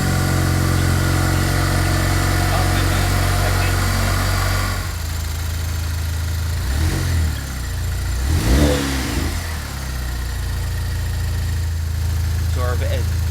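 A Saturn Sky Redline GXP with a big-wheel turbo idles steadily, its low engine drone constant with a couple of brief revs partway through and voices talking over it.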